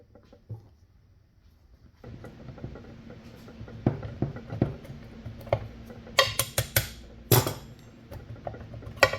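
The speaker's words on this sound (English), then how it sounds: "So now we need to pry this thing off here." Metal clicks and taps come as a back plate is pried off a Bad Boy mower during an oil leak repair, with scattered close knocks building into a cluster of sharp clinks near the end.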